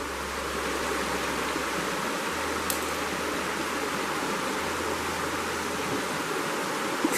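Fast-flowing stream water rushing steadily at close range, a dense, constant wash of churning sound without breaks, heard alone with no voices.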